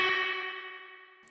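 Electric guitar played through distortion into a spring reverb pedal: a single sustained distorted chord rings out and slowly decays, leaving a faint reverb tail.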